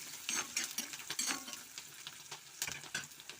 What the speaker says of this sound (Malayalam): ഇതിലേക്ക് നമുക്ക് കുറച്ച് ഇഞ്ചി വെളുത്തുള്ളി പച്ചമുളകും കൂടെ ഇട്ട് കൊടുക്കണം എന്നിട്ട് നല്ലപോലെ ഒന്ന് വഴറ്റിയെടുക്കാം